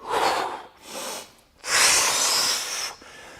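Deep, forceful breaths during a core workout: two loud exhalations separated by a pause, the second longer and hissing, close to the mic with no speech.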